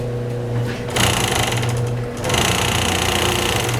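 A sewing machine stitches the side seams of a plus-size bra with a racerback, a loud, close, rapid motor hum that pauses briefly and then resumes.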